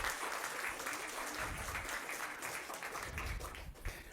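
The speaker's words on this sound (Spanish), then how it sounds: "Denle ese fuerte aplauso, Señor." A church congregation applauds loudly during a service led by a pastor, steady dense clapping filling the room for about four seconds with a brief swell near the end.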